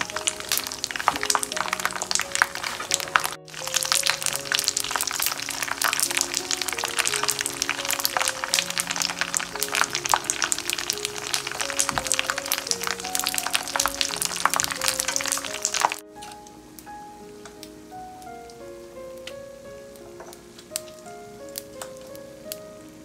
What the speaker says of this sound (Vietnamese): bây giờ mình sẽ chiên đậu hũ kia nha các bạn